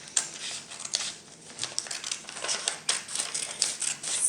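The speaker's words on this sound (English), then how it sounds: "what the scissors sound like as they're cutting through the paper" Scissors steadily cut through paper with crisp snipping and crinkling, a run of close, dry rasping strokes with brief pauses, no voices.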